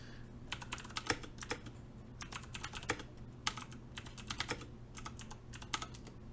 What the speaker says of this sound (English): Just wanted a quick little typing test then.